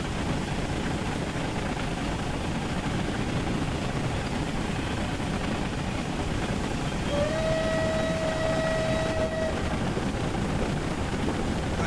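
A Southern Region 'Spam Can' steam locomotive in Train Simulator 2017 runs with a steady, loud rumble, and a long whistle sounds out clearly over it partway through.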